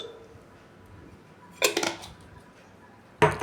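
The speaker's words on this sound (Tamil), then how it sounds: "நல்லா மாவை நல்லா கலக்கி விட்டுக்கணும்." Two short bursts of a spoon scraping and clattering in a bowl of thatta vada batter mixed with red chilli powder and ground garlic, close by, with quiet pauses between them.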